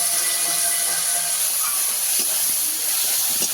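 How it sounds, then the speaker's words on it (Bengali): Tomatoes frying in a pan for a Bengali fish curry, a steady loud hiss of steam and sizzle running without a break, with small crackles scattered through it and no talk. "টমেটোটা ভালো করে ভাজা"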